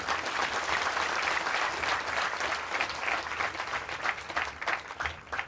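A crowd claps steadily and loudly throughout, a dense, sustained round of applause.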